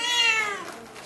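A house cat gives a single clear meow, close and fairly loud, falling in pitch over about a second.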